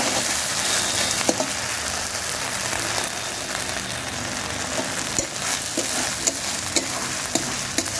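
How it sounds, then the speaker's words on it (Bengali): Ginger sautéing in a pan over low heat for a Sunday chicken curry gives a steady, close sizzle and crackle, with occasional sharp clicks from a spatula against the pan throughout. "কষিয়ে নেবেন আদাটা।"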